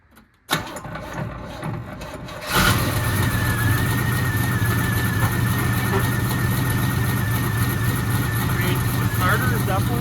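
A 1972 Chevrolet Chevelle rescued after sitting abandoned cranks briefly, then catches and settles into a loud, steady rough idle close by, running continuously to the end.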